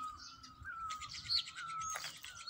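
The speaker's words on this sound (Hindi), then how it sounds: "कोयलों की आवाज़ें आ रही हैं और बहुत प्यारा समा बांधा हुआ है परिंदों ने" Birds, including Asian koels, call and chirp outdoors at a scenic hillside location near Rawalakot, with repeated high chirps over a steady background of other birdsong, moderately faint and without speech.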